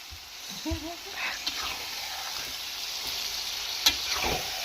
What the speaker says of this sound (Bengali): এখন ভালোভাবে নাড়াচাড়া করে নিব